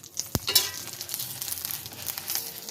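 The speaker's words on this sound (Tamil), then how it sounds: "இப்போ ஒரு ஒரு பதினஞ்சு மிளகா போல் போட்டிருப்பேன் அதை நம்ம வறுத்துக்கலாம் அது நம்ம கருக விடாமல் கொஞ்சம் எண்ணெய் ஊற்றிக்கலாம்" Dried red chillies, about fifteen, fry in oil over a wood-fired stove, giving a soft crackling sizzle with a sharp clatter near the start and a few stirring scrapes, with no talking.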